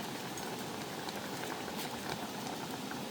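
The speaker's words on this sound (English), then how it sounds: "It is still boiling as I mix it around" Berry jam mixture boiling in a pot while being stirred, a steady dense bubbling and popping hiss that stays constant throughout.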